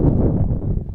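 Heavy wind buffets the microphone at an outdoor rugby game, making a loud, continuous low rumble and roar for about a second.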